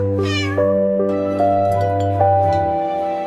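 A kitten meows in a French nursery rhyme, its cries set over a steady sung melody with soft instrumental accompaniment and held musical tones.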